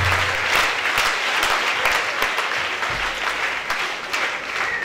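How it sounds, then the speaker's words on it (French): A church congregation gathered for a testimony breaks into loud, sustained applause, dense clapping from many hands filling the room steadily for several seconds with no voices standing out. "Acclamez très fort pour ces Jésus."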